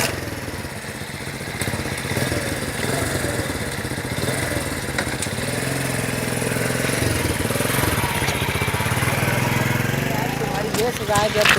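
A motorcycle engine runs continuously at a steady, rough mid-pitched idle, close and loud, with light rattling near the end while the bike is checked over.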